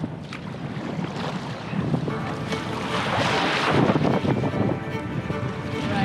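Tour boat pounding over large waves on a windy lake near El Calafate, with loud rushing water, hull slaps and heavy wind buffeting the microphone throughout.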